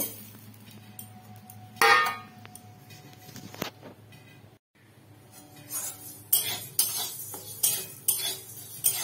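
Moong dal dry-roasted and stirred in a hot kadai, with a metal spoon scraping and clinking against the pan in irregular bursts, sharper and louder toward the end, over a faint low hum.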